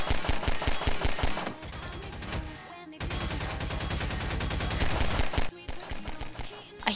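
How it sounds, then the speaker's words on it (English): Bursts of rapid gunfire in the Garry's Mod horror game Death House, loud and dense, with brief gaps between volleys and no speech. "Follow the sounds of the gun."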